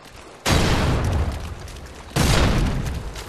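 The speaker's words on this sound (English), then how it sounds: "Friendly Predator missile inbound." A Predator missile strikes in Call of Duty Modern Warfare 2, heard as two heavy, loud explosions, each a sudden booming blast that rumbles and fades slowly, with no talking.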